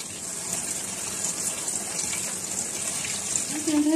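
Water from freshly boiled macaroni being drained off in a home kitchen, a steady broadband pouring rush that holds for several seconds and swells slightly louder at the end.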